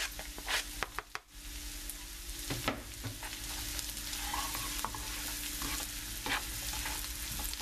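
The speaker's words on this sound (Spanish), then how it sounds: "Seguimos revolviendo." Chopped spinach sautéing in a pan with garlic and onion, stirred steadily: a continuous close sizzle and frying hiss with scraping stir strokes throughout, no talk.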